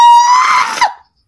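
A voice imitates R2-D2 screaming, one loud warbling electronic-style shriek with a bright pitch that slides and wavers before cutting off abruptly after about a second.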